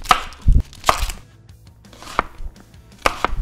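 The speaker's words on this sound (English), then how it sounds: "All right, time to cut up the onions." Onions being cut with a knife on a board: a handful of distinct, crisp chops spaced irregularly, close and loud with quiet gaps between, no talking.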